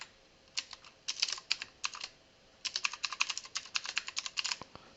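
Keystrokes on a computer keyboard as a username is entered during a software setup on Windows: two quick, uneven bursts of close, crisp clicking separated by a short pause, with no talking.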